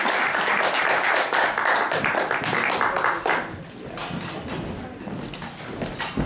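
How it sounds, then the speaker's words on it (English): A room full of people claps enthusiastically for a play's cast for a few seconds, then the clapping thins out into scattered taps and thumps. "please join me to give a big round of applause to the cast for your play"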